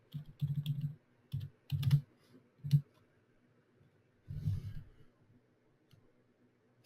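Typing on a computer keyboard in quiet, uneven bursts of close clicking keystrokes, separated by short pauses.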